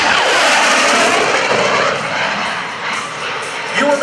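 An F/A-18C Hornet jet roars past at high speed during an air show demonstration, producing a loud, broad, continuous engine rush that fills the whole clip.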